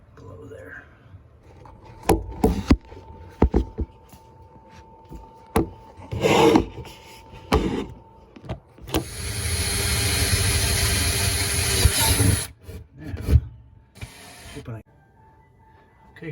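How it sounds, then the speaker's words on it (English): Bursts of power drilling through a refrigerator panel while installing an ice maker and water dispenser, with a sustained whirring grind of a few seconds in the middle, surrounded by clunks, handling noises and brief pauses. "I'm gonna go ahead and drill my hole right down below there."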